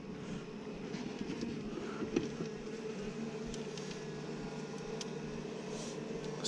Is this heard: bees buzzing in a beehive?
yes